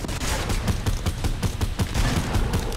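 Rapid video game gunfire: loud, dense bursts of automatic shots crackle almost continuously across the whole stretch, with no voices over them.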